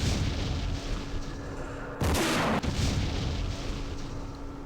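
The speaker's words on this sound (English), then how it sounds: "Let's try and soften things up with the recoilless rifle first." A recoilless rifle fires in the Vietnam war game Campaign Series Vietnam, giving one loud, sharp blast that lasts about half a second over steady low background ambience, with no talking.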